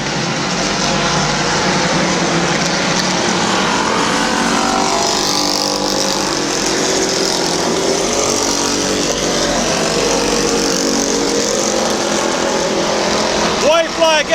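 Stock race cars at Midvale Speedway on July 2, 2004 roar past in a loud, unbroken engine drone close by, with a faint voice blending into the noise.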